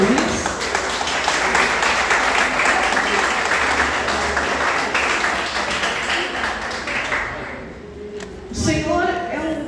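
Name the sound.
congregation clapping hands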